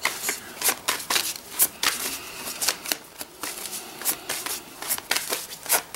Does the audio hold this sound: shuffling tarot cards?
yes